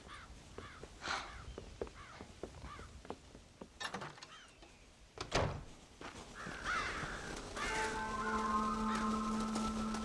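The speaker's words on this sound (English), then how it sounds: "God damn crows!" Crows cawing in the Red Dead Redemption video game, a few harsh calls scattered over a farm scene with rustling, soft thumps and a steady tone building near the end.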